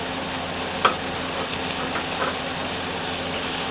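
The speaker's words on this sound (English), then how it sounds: "Give those a bit of a stir around. These are brown onions." Brown onions frying in a Dutch oven on an induction cooktop are stirred, giving a steady low sizzle with a sharp utensil knock early on and a few soft scrapes.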